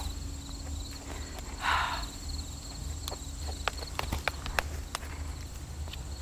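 Occasional hoof clops and footsteps of a horse moving at a walk, sparse and uneven, over a steady outdoor hum with a brief rustling burst.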